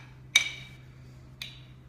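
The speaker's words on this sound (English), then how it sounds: "Let's give it a bit of a stir." A spoon stirs a glass of juice mixed with glucomannan, giving two distinct ringing clinks about a second apart over a faint low hum.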